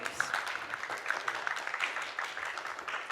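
Faint, scattered audience clapping at a school theatre production, thin and somewhat distant, with a few louder individual claps standing out.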